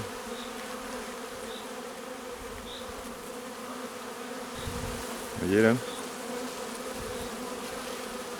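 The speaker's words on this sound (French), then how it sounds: "c'est des abeilles noires." Steady insect buzzing of many black honeybees close by on a hive frame, with someone speaking briefly partway through.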